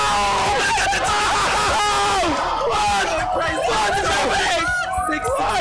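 A large crowd at the 2022 Tetris World Cup finals reacts loudly and continuously with excited cheering, shouts and babble, a dense sustained roar filling the whole stretch.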